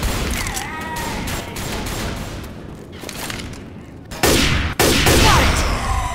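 Hunting rifle gunfire in Left 4 Dead, a couple of sharp, loud shots near the end cutting through steady game ambience and scattered distant firing.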